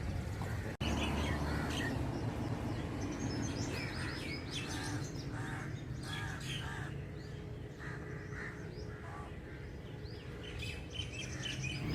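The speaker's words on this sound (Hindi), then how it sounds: "ये चिड़ियों की आवाज़ें, परिंदों की आवाज़ें और ऊंची होती जाती हैं" Evening birdsong near a football ground in Lahore: many birds chirp and call at once, with bright repeated tweets and harsher caws over a steady background hum, close and lively.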